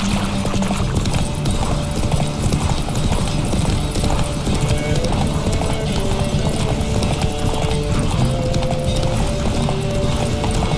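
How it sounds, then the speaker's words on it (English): Roach, the horse in The Witcher 3, gallops in a steady, fast clip-clop of hooves throughout, loud and continuous over rumbling game ambience, with voices talking at points. "Run, Roach. You were faster once!"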